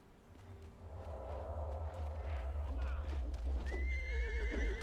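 A horse in the Conan Exiles video game whinnies loudly, with clip-clop hoof steps and a low rumbling hum beneath, the neigh rising sharply near the end.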